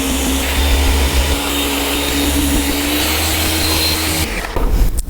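Almonds being blended into almond milk, a steady, loud motor whir with a continuous grinding roar that holds throughout and shifts in tone near the end, with no voices.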